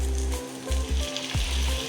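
Pointed gourd and potato pieces fry in hot oil with a moderate sizzle, while a low droning hum cuts in and out in uneven pulses underneath, without any speech.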